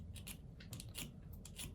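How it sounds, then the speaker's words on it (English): A sharpening tool scrapes along the back edge of a pair of sewing scissors in quick, rhythmic strokes, each a short, close, gritty rasp repeating several times in a row with no talk. "I'm just scraping that dragging it along the back of the scissors, the back end"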